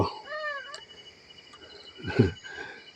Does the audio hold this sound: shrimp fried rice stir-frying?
no